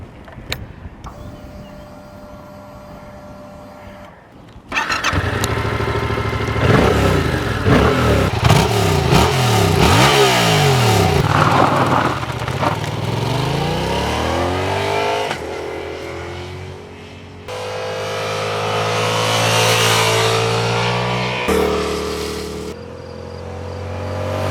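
A new Yamaha two-cylinder engine on a naked motorcycle revs up loudly after a quiet start, rising and falling in pitch through several throttle blips, then settles into sustained high revs near the listener.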